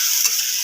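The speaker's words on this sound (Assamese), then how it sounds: "ভাজি আছোঁ তেল দি ভাজিছোঁ" Taro stems frying with tomato, chilli, jabrang and black pepper in hot oil, giving a steady loud sizzle that lasts the whole short moment, with no voices.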